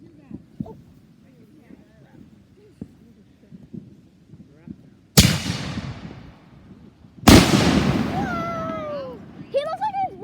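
Fireworks go off outdoors in two loud, sharp blasts a couple of seconds apart, each with a crackling tail, while people nearby exclaim and chatter between them.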